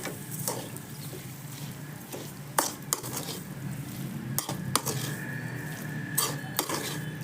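Potato filling for pav vada is mixed with coriander and salt in a pan, a spoon scraping and clinking against the metal in scattered soft knocks over a steady background hum.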